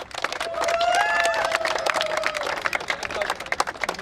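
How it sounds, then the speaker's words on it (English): An audience at a sports and entertainment event applauds and cheers, with dense clapping and a few shouts kept moderately distant over about four seconds. "give a round of applause to"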